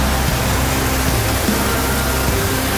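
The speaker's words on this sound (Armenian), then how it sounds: "ահա եւ Սվարանցի ջրվեժը" Svarants waterfall in Armenia: a loud, steady roar of rushing water, broadband and unbroken, with a faint low rumble beneath.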